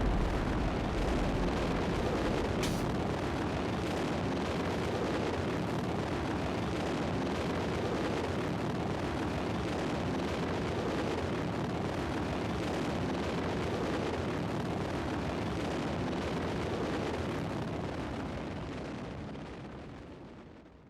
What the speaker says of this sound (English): So I'm going to fire the stage myself.